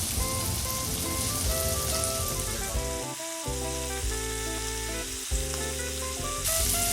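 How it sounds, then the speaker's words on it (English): Mahi mahi fillets with blackened seasoning sizzle and crackle steadily in a hot pan, a loud, dense, continuous frying hiss that carries through the whole stretch, with no one speaking. "Nice little sizzle."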